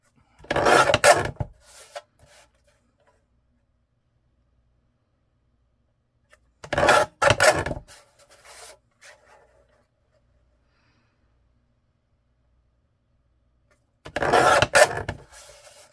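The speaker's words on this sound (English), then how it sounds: "my decal edge trimmer here." A decal edge trimmer trimming paper page edges makes three separate short bursts of scraping and rasping, spaced several seconds apart with quiet between them, close up and with no talking.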